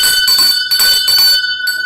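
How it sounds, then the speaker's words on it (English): A bright metal bell rings loudly in rapid repeated strikes, a steady clattering ring that stops and then briefly resumes, with no voices over it. "You have to ring the bell on that."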